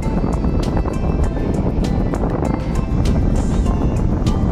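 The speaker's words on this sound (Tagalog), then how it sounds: "Ang lakas na ng hangin dito" Strong wind buffets the microphone in a constant loud roar, with crashing surf blended underneath, at Bagasbas Beach.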